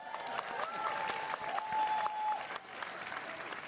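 A hall audience at a Conservative leadership debate hosted by the Canada Strong and Free Network breaks into steady, dense applause that carries on evenly throughout, with a faint tonal voice-like trace running underneath.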